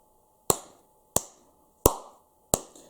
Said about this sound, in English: I'm clapping because this song might be one of my favourite songs I have heard this year.